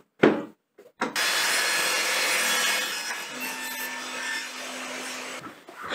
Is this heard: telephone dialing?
no